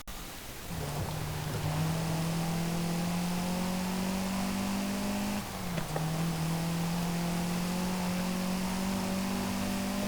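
A Porsche engine in Forza Horizon 5 races hard during a midnight street battle, droning loud and steady, climbing through one gear before a short dip at the shift and then rising again.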